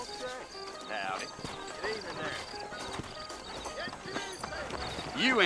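Saddled horses in the Western video game Red Dead Redemption clip-clop steadily around New Austin, their hooves rhythmic and fairly close, mixed with occasional whinnies and voices talking over them.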